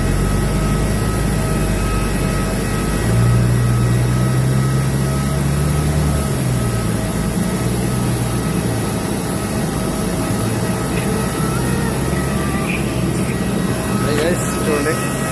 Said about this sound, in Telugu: అది ల్యాండ్ అయింది ఫ్లైట్.